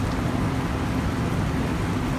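A pot of water at a rolling boil for fresh pasta, a steady dense bubbling roar close by with no voices.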